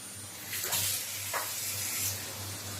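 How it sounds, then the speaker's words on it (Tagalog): Water poured into a pot of pork adobo with garlic, onion and tomato gives a steady hissing rush with a few brief sizzling swells over a low background hum. "pwede na po natin siyang lagyan ng tubig"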